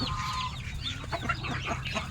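Chickens cluck in short, repeated bursts beneath their henhouse on a farm in Mindanao, close and fairly loud over a low background with no talking.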